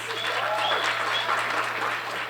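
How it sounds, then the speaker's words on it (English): Audience at a mental health consortium gala clapping hands in steady, dense applause that fills the room evenly from start to finish, with no voices standing out. "Clap your hands"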